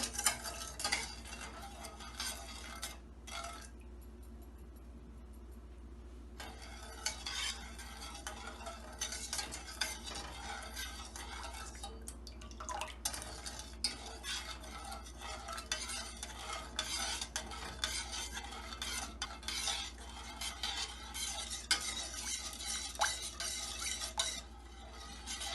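Moong dal halwa with cardamom stirred in a pan as it cooks, a steady scraping and gentle sizzle with a spoon working against the metal throughout, close and continuous.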